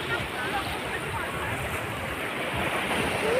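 Sea waves splashing and surging along a Thai shore, a steady broadband wash with rumbling low end and wind buffeting the microphone, building slightly louder toward the end with no clear talk.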